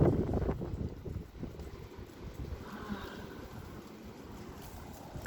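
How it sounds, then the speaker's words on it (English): A steady rush of strong wind blows outdoors during wild windy weather, with a loud gust at the start that settles into a continuous roar. "The wind is crazy, man."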